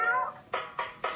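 A cat gives three short, rapid meows in a row, each a quick bright burst, close and clear after an opening drawn-out note, with no speech.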